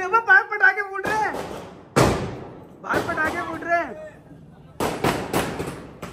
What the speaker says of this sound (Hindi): बाहर पटाखे फूट रहे